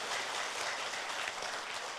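An audience at a crypto event in Korea claps in a continuous, even wash of applause, faint and distant throughout the short stretch.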